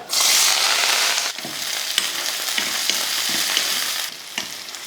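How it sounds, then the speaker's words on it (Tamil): Mustard seeds, onion, green chilli and curry leaves hit hot oil with a loud burst of sizzling that settles into a steady crackle, punctuated by spatula taps against the pan. "எண்ணெய் காஞ்சதுமே கொஞ்சம் கடுகுலுந்து அடுத்து கொஞ்சம் வெங்காயம் பச்சை மிளகாய் ரெண்டு கொஞ்சம் கருவேப்பிலை"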